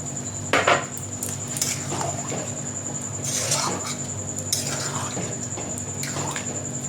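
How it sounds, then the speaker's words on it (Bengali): In a home kitchen making Bengali-style mutton tarka, a bowl is rinsed and water is poured in, with splashing, clinks of the bowl and short bursts of running water against a steady background hum. "বাটিটা ধুয়ে একটু জল দেবো আমি"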